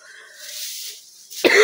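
Someone close by with a cough breathes in with a wheeze, then gives a single sharp cough at the end.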